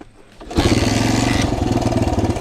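A pit bike engine is kick-started, catching after a brief scuffle and bursting into a loud, close, buzzing rapid idle that runs steadily on.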